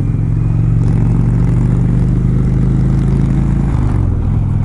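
Motorcycle riding through downtown Lincoln, New Hampshire, a loud continuous engine drone with heavy wind rumble, steady throughout with a slight pitch drop near the end.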